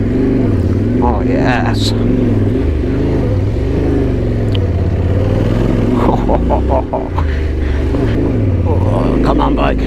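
A Yamaha Tenere motorcycle engine drones and strains as it climbs a loose, rough logging trail in a forest, its pitch rising and falling with the throttle. The engine is loud and steady throughout, and a rider speaks briefly over it.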